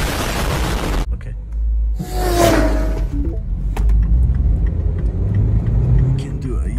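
Car floored at full throttle during a road test for an incomplete heated catalyst readiness check, a loud low engine rumble and roar rising over several seconds, with a person talking over it.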